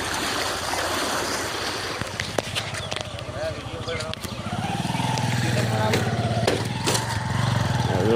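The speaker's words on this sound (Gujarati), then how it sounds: "લેર તૂટીને આવી છે પાણી." Floodwater rushes through a breached canal, a steady broadband roar of churning water running close and loud throughout, with a motor-like rumble underneath and a voice talking over it at times.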